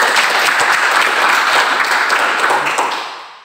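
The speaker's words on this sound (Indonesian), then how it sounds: "tepuk tangan" Vocational high school students applaud together in a classroom, a steady, dense wash of clapping that holds for several seconds and then tapers away at the end.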